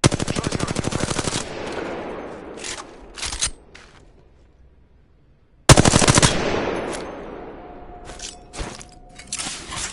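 Video game gunfire from Apex Legends: rapid automatic bursts ring out loud and close, pause into a quieter stretch with a few isolated shots, then another sustained burst followed by scattered single shots.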